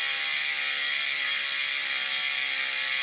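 The Industry 9 1.1 series rear hub on a Santa Cruz Reserve wheel freewheels with a dense, steady, high-pitched ratcheting buzz, loud and unbroken for three seconds, with no voices.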